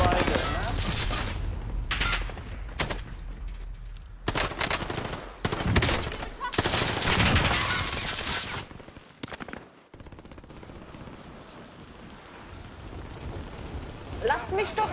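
Rapid bursts of video game gunfire, machine-gun-like volleys and explosive blasts, come loud and close in clusters with short gaps, mixed with people talking during a gaming stream.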